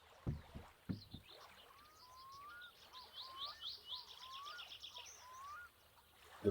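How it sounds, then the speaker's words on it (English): Birds chirping and calling repeatedly around a boat on water in the video game My Summer Car, soft knocks and splashes at the start, quiet, calm ambience throughout. "the ambience, the gently lapping water, the Finnish swear words, and the boat."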